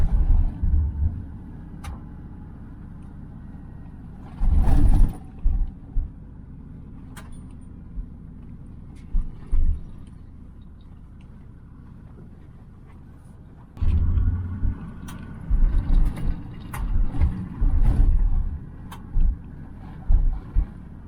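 Toyota LandCruiser 79 Series driving a badly corrugated dirt road, giving a low continuous rumble inside the cab with bursts of louder rattling and thumping over rough patches.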